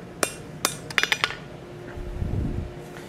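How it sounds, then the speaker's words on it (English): Hammer blows ring out on an anvil as forged iron for a curtain tie-back is straightened, about five sharp metallic strikes in an uneven cluster, followed by a low rumbling scrape. "I'm just straightening this out on the anvil with just a few hammer blows"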